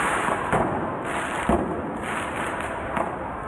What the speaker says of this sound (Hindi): उन्होंने सड़क पर पटाखे छोड़ दिए।